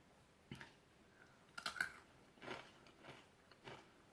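Crunchy Nut cereal is bitten and chewed up close in a quiet room, giving several soft separate crunches spaced a second or so apart.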